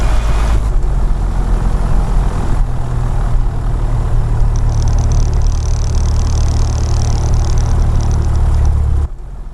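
A light training aircraft's propeller engine runs steadily after start-up, a loud continuous low droning rumble with a slight rise in tone partway through, cutting off abruptly near the end.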